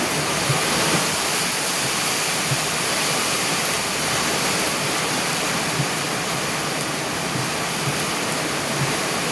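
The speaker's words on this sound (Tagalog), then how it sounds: "Malakas ang ulan." Heavy rain pours in a steady, dense roar that fills the whole stretch without pause, loud and constant, with no voices.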